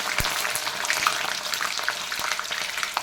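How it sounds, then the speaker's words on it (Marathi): Green chillies fry in hot oil, giving a steady close crackling sizzle with scattered pops across the whole stretch and no talking. "आपण सुरुवातीला या हिरव्या मिरच्या तळून घेणार आहोत"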